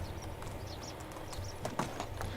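Hoofbeats of a horse clopping along in Medieval Dynasty, a string of light, regular knocks that firm up toward the end, with faint bird chirps in the background and no talking.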